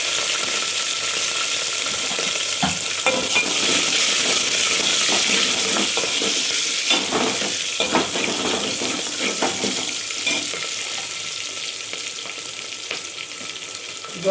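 Onions for sambar sizzle steadily in a hot pan, a close, broad hiss stirred now and then with scraping clatters that gradually softens toward the end, with no talking.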